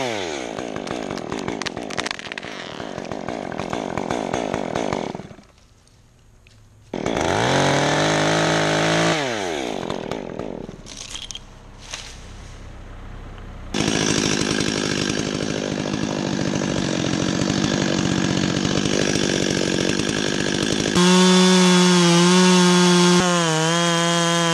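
A 270 chainsaw with a freshly sharpened chain runs loud and close, revving and cutting into wood with changing engine pitch, a brief lull, then a steady high whine.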